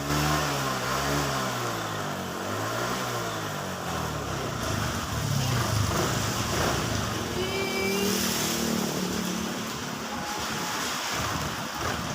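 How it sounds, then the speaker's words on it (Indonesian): A Suzuki Nex scooter engine revs continuously after an injector service, a loud, close, steady roar with shifting pitch and some wind-like noise. "kita geber lagi gasnya biar kotoran yang ada di dalam burung dan injektor itu bisa bersih"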